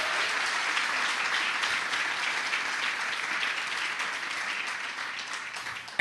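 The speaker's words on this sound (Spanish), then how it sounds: "Le vamos a regalar otra ofrenda de palmas al Dios de la" A church congregation claps steadily for several seconds, a dense, even wash of applause that slowly tapers at the end.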